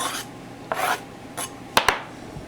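A kitchen knife slicing through an onion on a board, several short crisp cuts and rasps spaced apart, with two sharper knocks near the end as the blade meets the board, close and fairly quiet.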